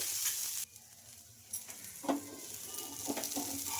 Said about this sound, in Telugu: ఇంకా ఇప్పుడు ఆయిల్ అయితే వేసుకుంటున్నానండి ఇంకా మనకు దోశ అయితే ఒక సైడ్ కాలిన తర్వాత అయితే ఇంకో సైడ్ అయితే తిప్పేస్తున్నానండి